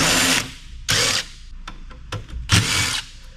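Power drill with new bits backing screws out of a UPS battery unit, three loud bursts of whirring drill noise with short clicks and rattles of loosened screws between them, no talk.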